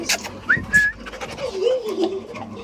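A dog whimpers and pants with a few high whiny squeals, close by, amid some light background noise.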